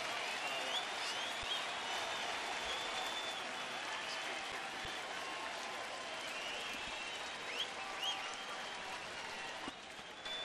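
A baseball stadium crowd applauds and cheers in a sustained, even wash of clapping, the crowd stirring with a two-strike count on the batter.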